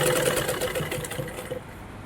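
A sewing machine runs a seam down the centre of a cross-piece binding on a blouse neck, a close, fast, continuous mechanical whirr that eases slightly toward the end.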